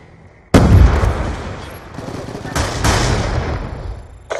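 Sniper gunfire in a multiplayer shooter video game: a sharp loud shot with a booming tail, followed by further reports and rumbling battle noise, with voices shouting underneath.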